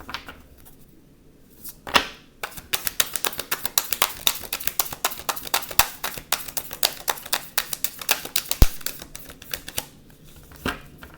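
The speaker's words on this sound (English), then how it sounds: "I'm trying to shuffle the cards." Large tarot cards are shuffled with quick, dense riffling taps in bursts, close and fairly quiet, with no talk.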